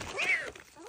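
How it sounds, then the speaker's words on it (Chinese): A small black-and-white kitten gives a short, rising meow after being scooped up, loud and close, with some rustling behind it. "小猫一出来就指着林老师的鼻子骂我"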